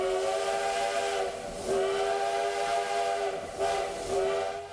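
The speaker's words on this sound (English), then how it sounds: "it's one of Canada's last running steam trains" A heritage wood-fired logging steam locomotive at Fort Steele in the East Kootenays sounds its whistle in long, steady blasts with a rich harmonic tone, loud and continuous with slight swells.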